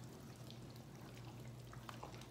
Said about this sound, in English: So I'm going to add about a cup of water and continue to mix this up.